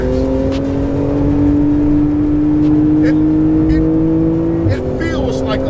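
A Porsche with PDK in sport mode and sport exhaust open drones steadily and loudly at high revs, a sustained engine tone that dips briefly near the end, with voices faintly under it.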